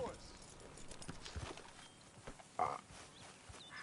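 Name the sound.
horse hooves in video game Red Dead Redemption 2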